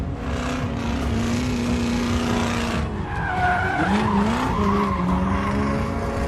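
A car in a Hindi robot cartoon skids with a sustained, loud tire squeal over engine noise, the pitch bending and sliding near the end.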